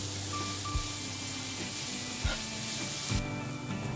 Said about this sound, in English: Now stir fry them together for 2 minutes